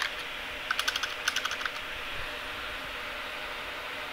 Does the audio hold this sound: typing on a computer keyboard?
yes